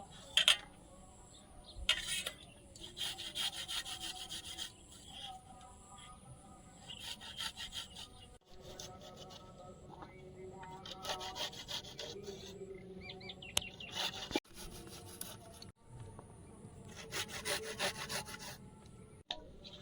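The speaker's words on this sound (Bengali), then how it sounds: "এবার রসুনটা কুড়ে নেব" Garlic scraped on a grater in a home kitchen during festival cooking, giving quiet, repeated rasping strokes in short bursts with pauses between them, while faint chirps sound in the background.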